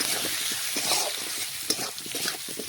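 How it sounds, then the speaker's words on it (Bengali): Onions sizzling and frying in a pan for a Bengali chicken and potato dish, a steady close hiss with soft stirring scrapes throughout and no talking. "আমি এখানে পেঁয়াজের সাথে ভেজে নিচ্ছি"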